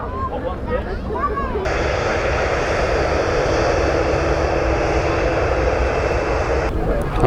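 Boeing 737-800 jet at Manchester Airport, a steady, loud roaring engine noise that holds for several seconds, with people talking nearby at the start.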